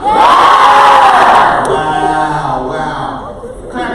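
A crowd at a poetry slam yells "yeah" together in one loud burst that rises into a cheer, then trails off into scattered whoops and lingering voices.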